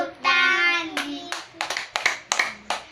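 Children clapping their hands during a Sunday school class, a few uneven claps following a sung or chanted voice.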